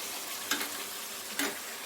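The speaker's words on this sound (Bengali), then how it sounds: "বেরেস্তাটা হতে থাক, পেঁয়াজগুলো মানে ভাজা হতে থাক" Sliced onions frying slowly over low heat for biryani fried onions, a steady soft sizzle at moderate level with two brief stirring scrapes, no talking.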